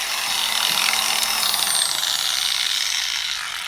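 An Adam's Swirl Killer Mini polisher runs close by, giving a steady, unbroken whirring hiss that holds at an even level throughout.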